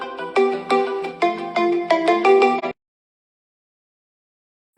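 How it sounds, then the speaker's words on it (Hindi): A phone ringtone rings for an incoming call, a bright, repeating melodic pattern of tones played alone for a few seconds before it cuts off abruptly into silence. "आपको एक फोन आ गया था"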